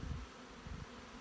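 Honey bees buzz in a hive, crowding onto a protein patty and the underside of the lid. The hum is a faint, steady, close-up drone that swells and fades slightly over a brief moment.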